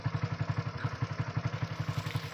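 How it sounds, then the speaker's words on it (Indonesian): Homemade car built around a motorcycle engine, used to haul palm oil fruit on peat land, running with a fast, even, chugging beat of exhaust pulses, close to the microphone and with no voices. "sekarang kita uji coba kekuatan dan kapasitas mobil bermaster motor ini"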